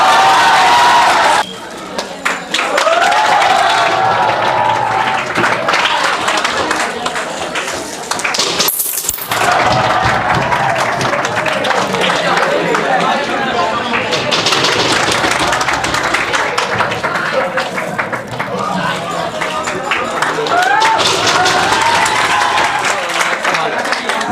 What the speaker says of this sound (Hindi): जोरदार ताली करो।